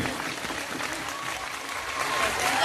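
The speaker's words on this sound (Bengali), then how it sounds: "হাততালিটা কম হচ্ছে কিন্তু আরো জোরে চাই" Audience applause at the Singur village fair, a dense patter of many hands clapping that swells slightly toward the end, with a voice over the crowd.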